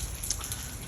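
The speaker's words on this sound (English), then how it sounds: "It's raining." Light rain patters outdoors in a faint, steady hiss with a few soft drop ticks, quiet and close, no voices.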